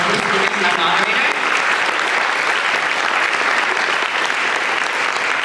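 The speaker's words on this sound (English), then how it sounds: "can we give a big round of applause for our lovely speakers and our moderator?" Audience at a discussion panel on race, faith and reconciliation applauds speakers and moderator, steady dense clapping filling the room throughout, with faint voices in the first second.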